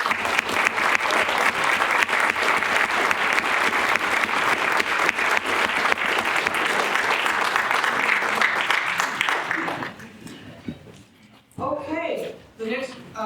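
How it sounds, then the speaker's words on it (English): A crowd at a Texas House District 64 candidate forum applauds the candidates with dense, loud clapping that lasts about ten seconds, then fades as a voice begins speaking. "We can have a round of applause for all the candidates."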